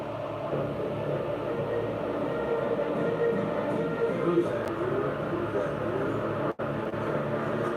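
A loud, steady rumble of a train rolling on rails fills the whole stretch, with muffled voices faintly underneath.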